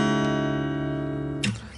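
A sustained strummed guitar chord from a song, ringing steadily on its own for over a second before being cut off with a brief scrape.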